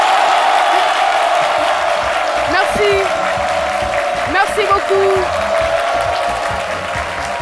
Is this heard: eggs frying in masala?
no